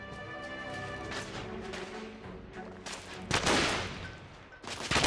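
Carbine gunfire in The Order: 1886 video game, several close, loud shots in quick bursts over a busy layer of game sound effects and music, with a sharper burst near the end.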